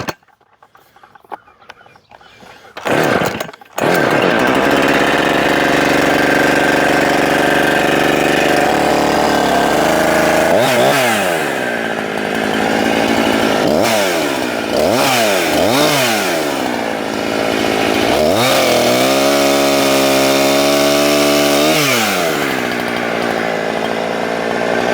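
A chainsaw pulls on and starts, idles loudly, then revs hard several times, its pitch rising and dropping as it cuts through a piece of pallet wood up close, with a dull chain.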